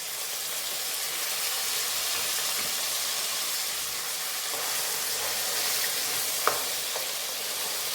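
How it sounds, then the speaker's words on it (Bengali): Tomato paste fries in hot oil with a loud, continuous hiss and sizzle, an occasional sharp clink of a utensil against the pan near the end, no talking. "এবার এর মধ্যে এই টমেটো পেস্টটা দেবো, কেন এটাকেও একটু ভাজতে হবে।"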